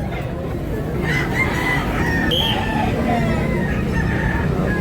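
A rooster crows repeatedly at a busy gamecock market in Tabunok, Talisay, Cebu, its calls rising over a steady crowd murmur and faint talk.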